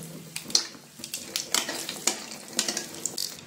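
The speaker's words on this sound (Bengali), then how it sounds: "ওই তেলে বড়িগুলো ভেজে ফেলি।" Lentil dumplings (bori) fry in oil left over from frying fish, giving a quiet, uneven crackle and sputter with small sharp pops scattered throughout and no voices.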